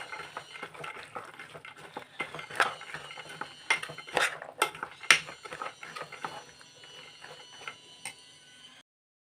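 A spoon stirs avarekalu huli, a field bean curry, in a cooking pot, giving repeated light scraping and clinking taps at an irregular rhythm, close and fairly quiet, with no talking.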